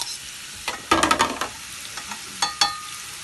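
Peppers dropped into a hot pan and stirred for a summer vegetable dish, giving a few close scraping bursts over a steady low sizzle of frying.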